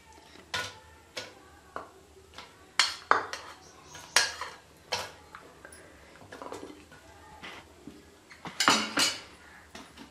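Apricot halves, stones removed, dropped one after another into a blender jug holding ice, making a run of sharp clinks and clatters at irregular intervals, close and fairly quiet, with no speech.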